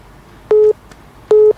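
A telephone line sounds two short identical electronic tones about 0.8 seconds apart as a caller connects, loud, clean and steady over a quiet background.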